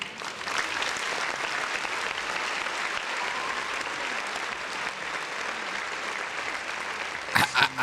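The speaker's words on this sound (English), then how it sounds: "I gotta give a round of applause to Smooth, man." A dense, steady burst of crowd applause plays for several seconds, even and continuous, with a few sharper louder bursts near the end.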